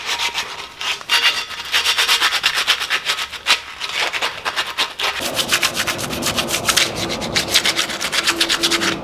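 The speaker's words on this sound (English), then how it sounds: "I filed the ends of these brackets down, but I'm gonna just give them a good roughing up." Metal bracket ends for a Ford Transit van are roughed up by hand, making rapid, rhythmic abrasive rasping strokes that are loud and close and continue throughout without speech.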